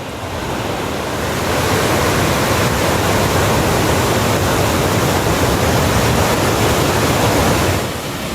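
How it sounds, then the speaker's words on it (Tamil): Floodwater roaring over the Courtallam waterfall near Coimbatore, a loud, steady, dense rush of falling water that swells slightly and holds unbroken throughout. "கோவை குற்றாலம் அருவியில் ஆர்ப்பரித்து கொட்டும் வெள்ளம்."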